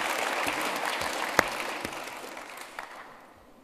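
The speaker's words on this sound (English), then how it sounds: "So I think it's important that we give them a round of applause" An audience claps in warm applause for a few seconds, a dense, steady patter of hands with a few sharper claps standing out before it fades toward the end.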